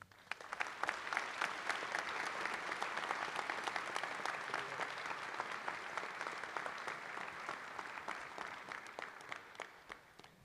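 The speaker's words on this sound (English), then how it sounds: "Please join me in giving a warm applause to our Interim Dean" Sustained audience applause for an Interim Dean at a medical school White Coat Ceremony, many hands clapping steadily for about ten seconds at an even level before tapering slightly at the end.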